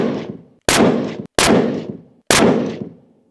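A Tikka T3X Superlite rifle chambered in 7PRC is fired outdoors. Three loud, sharp shots come at roughly even intervals, each trailing off into a long echoing tail. A decaying tail from an earlier shot is heard at the start.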